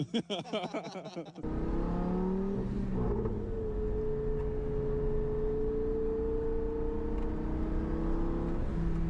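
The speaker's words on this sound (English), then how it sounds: "So Matt, in the freshly rebuilt Gallardo twin turbo 1001 horsepower. He wins on noise" A freshly rebuilt twin-turbo Lamborghini Gallardo making 1001 horsepower roars loudly and steadily, its engine held at high revs after a short burst of rough, choppy sound at the start.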